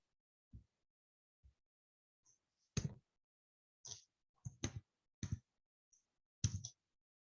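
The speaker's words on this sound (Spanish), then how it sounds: "Teclado." Scattered keystrokes on a computer keyboard while entering a math function, about eight separate taps and short bursts spread irregularly over several seconds, fairly faint with quiet gaps between.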